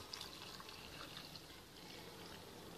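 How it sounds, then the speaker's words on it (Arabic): A litre of water is poured steadily over recipe ingredients, including ginger, in a bowl or pot. The trickle is faint and continuous, with no voices. "ثم نضيف على هذه المكونات لتر من الماء"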